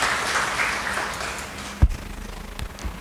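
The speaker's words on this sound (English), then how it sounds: "Big round of applause, please." An audience at a book launch and panel discussion claps steadily in a dense wash of applause, with a couple of sharp thumps near the end.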